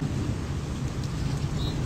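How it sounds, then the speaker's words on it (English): Rain falling outdoors in a steady, even wash of noise that stays constant throughout, fairly loud, with no voices. "See that? It's raining."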